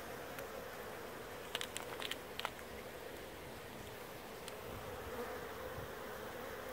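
Honey bees buzz around a hive at an apiary, a faint, steady hum with a few brief ticks and rustles.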